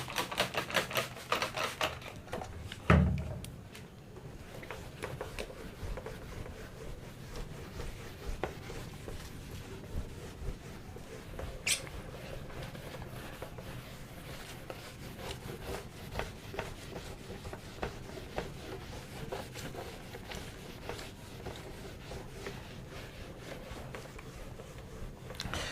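Formulas are written on a board in a quiet series of irregular taps and scratches that run on for about twenty-five seconds, with one sharper knock near the start.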